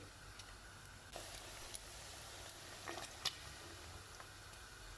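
Turkey meat and onion fry in a pan, a faint, steady sizzle and hiss broken by a few soft clicks and pops of stirring.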